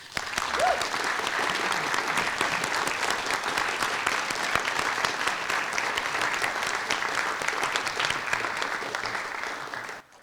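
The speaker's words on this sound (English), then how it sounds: "celebrate those who journeyed with you with a round of applause" Sustained audience applause fills a college winter graduation celebration, thick and even for about ten seconds before stopping abruptly.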